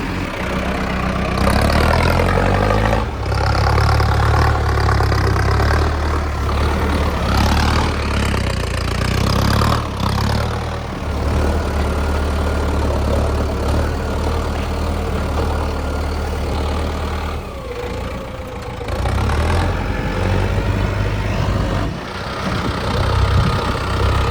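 A loud four-cylinder diesel Mahindra Arjun NOVO 605 tractor with a dozer attachment runs steadily, a heavy low rumble that holds throughout with slight shifts in load and no voices.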